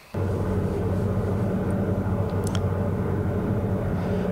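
Steady drone of a Cozy MKIV canard airplane in flight, heard from inside the cockpit as it circles to land, a loud even engine roar that starts abruptly and holds constant throughout.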